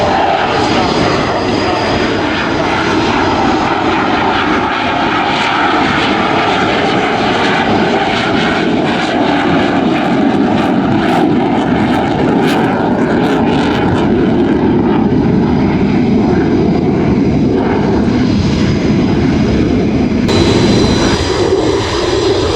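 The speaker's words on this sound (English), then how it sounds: "at this field, he will set full afterburner and start." A jet aircraft at RIAT 2025 runs its engine at full afterburner to start its takeoff roll, producing a loud, continuous, unbroken roar that holds steady for over twenty seconds.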